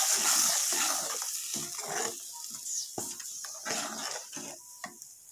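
Paneer masala paste is stirred in a pan with a utensil, giving close scraping and stirring strokes over a soft sizzle of frying, with no voices.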